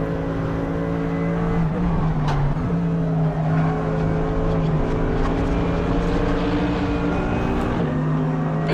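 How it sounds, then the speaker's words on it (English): V8-engined LMP3 race car in a racing video game, a steady loud droning engine note held at high revs, briefly dipping and rising with gear changes, heard from close with no talking. "It's basically what if an LMP3 had, a V8 engine had no low end and just all mids."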